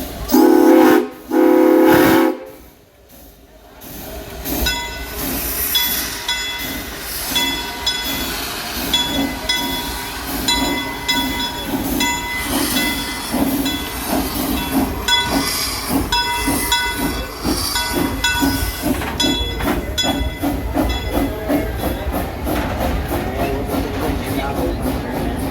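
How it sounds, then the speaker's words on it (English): An amusement park ride train rolls to a stop with a steady mechanical rumble and hiss, preceded by two loud bursts at the start, continuing as a sustained close, busy sound. "We must wait for the train to come to a complete stop, and it has a tendency to jerk a little bit,"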